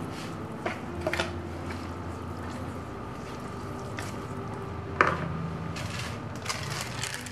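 Soft liquid sloshing and faint scraping as a mixture is stirred in a bowl, with occasional light clinks of a utensil against the side.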